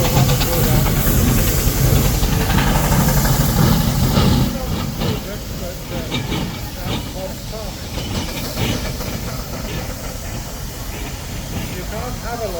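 A steam engine at a steam preservation rally pulls away with a loud, continuous hiss of steam that eases slightly after a few seconds. Faint mechanical rattling and clanking run underneath, with a voice talking nearby.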